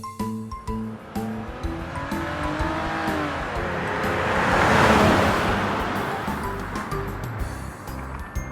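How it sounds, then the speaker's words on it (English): A toy electric patrolling car runs with a continuous motor whir and rolling noise, swelling slightly louder in the middle before easing off, heard alone without any voices. "Electric patrolling car."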